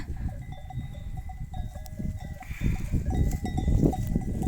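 A flock of sheep grazing on a hillside, with faint bleats, a cowbell's light clanking and rustling movement close by, with no talk.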